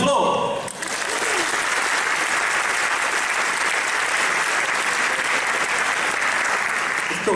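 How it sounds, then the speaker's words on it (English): A large crowd at a conference opening ceremony applauds steadily and loudly, a dense wash of clapping that holds evenly throughout. "An applause."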